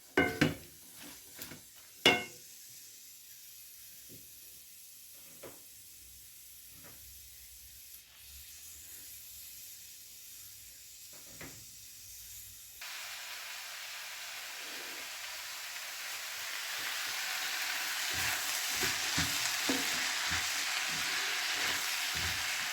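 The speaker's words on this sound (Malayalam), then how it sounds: "അതിനെ നന്നായിട്ടൊന്ന് വഴന്ന് വരട്ടെ." Food sautés in a pan, a soft hiss that swells into a loud, steady broadband sizzle partway through, with a few sharp utensil clinks early on and no talking.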